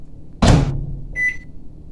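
A microwave oven heats a sausage and egg breakfast biscuit, with a short burst of door or button noise followed by a brief steady hum or beep, close by and fairly quiet, with no talking.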